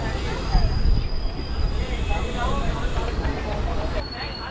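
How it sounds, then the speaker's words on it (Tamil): Rumble of the MAS to MAQ 12601 express as it moves along the line, heard from inside a carriage; steady low rolling noise with rattle, fairly loud and continuous. "திருவள்ளூர் ரயில்வே ஸ்டேஷன்லேருந்தும் இப்போ ட்ரெயின் மூவ் ஆகிடுச்சுங்க"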